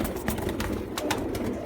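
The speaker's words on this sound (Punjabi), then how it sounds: "ਸਿਆਲਕੋਟੀ ਲਾਹੌਰੀ ਕ੍ਰਾਸ ਕਬੂਤਰ, ਇਹ ਫਕੀਰਗੁਲ ਕ੍ਰਾਸ ਕਬੂਤਰ ਜਿਹਾ ਤੁਹਾਡੇ ਸਾਹਮਣੇ" Sialkoti Lahori cross pigeons coo, and short chirps come through over a continuous murmur of low background noise, with no voices.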